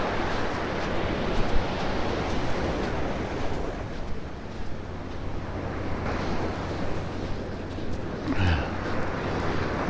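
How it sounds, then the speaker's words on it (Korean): Ocean waves wash up onto a sandy beach, heard as a broad continuous roar and rush with wind noise buffeting the microphone, and no clear speech. "바로 파도가 막아버려"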